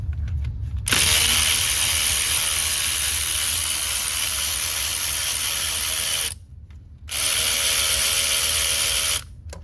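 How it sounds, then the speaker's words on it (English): An electric ratchet zips loudly and continuously for several seconds, stops briefly, then runs again while removing a bolt during water pump replacement on a 2014 Toyota Camry. "This I'm gonna use the ratchet, the electric ratchet."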